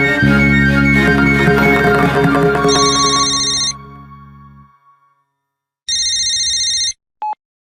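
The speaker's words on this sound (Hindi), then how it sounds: "ऋषि के पिताजी का फोन" A telephone rings loudly and close by in two distinct bursts of bright electronic trilling, the first coming in as background music fades out and the second following after a short silence, with a brief tone at the very end.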